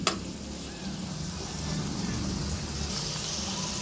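Valenciana rice dish sizzling and frying in a pan while being stirred, a steady close hiss with soft scraping throughout.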